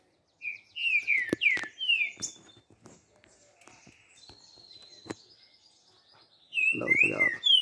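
A trinca-ferro songbird sings near a cage at a house, bright whistled phrases and chirps coming in bursts, close and clear, with a quieter gap in the middle before a louder run of notes at the end.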